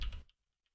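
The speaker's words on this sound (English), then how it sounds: "So now I can finally start typing some Java code." Brief burst of computer keyboard keystrokes while typing Java code, a couple of quick clicks up close, then silence with one faint tap.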